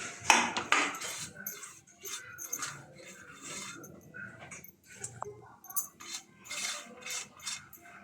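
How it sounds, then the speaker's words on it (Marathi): Vermicelli goes into a pot of saffron-flavoured milk, with light metallic clinks and taps of a spoon against the pot, quiet and scattered, alongside faint background voices. "आता मी हे शेवया टाकते त्यात."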